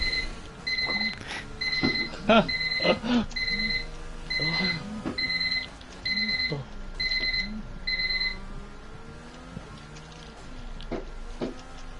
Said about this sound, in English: Whose alarm clock set? That's my alarm clock